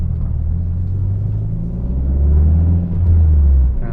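A Saab 9-5 Aero engine pulls hard in second gear with a loud, deep, steady rumble inside the car, swelling briefly as it accelerates, with no talking over it.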